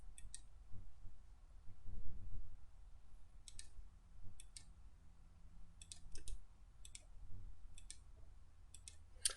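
Computer mouse clicks while working in CAD software with lasso selection, coming in short crisp clusters of two or three spread across the span, faint and close over a low background hum.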